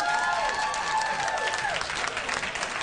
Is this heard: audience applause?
yes